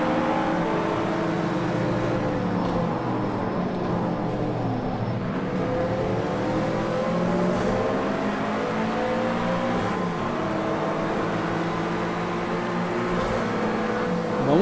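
Acura NSX 2017 racing in Project Cars 2 on a speed circuit with manual gears, engine note climbing through repeated revving sweeps and gear changes, loud and continuous with no talk.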